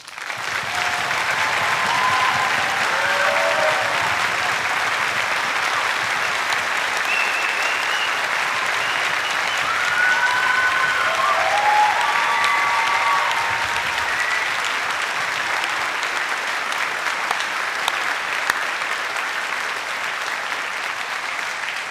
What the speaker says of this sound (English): join me in applauding our outstanding staff and all they've done to support you through your time here